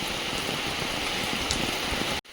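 Steady rain pours outdoors at a riverside fishing spot, a dense, even hiss of drops on surfaces that stays loud and constant before cutting off abruptly at the very end.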